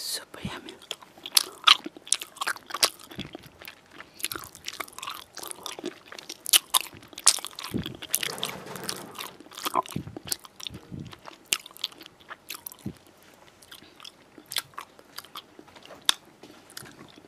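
Crisp bites and repeated chewing of Haribo Creamy Strawbs, soft strawberry-and-cream gummy candies, close to the mic in an ASMR setting, with sharp crunchy snaps scattered through sustained squishy mastication.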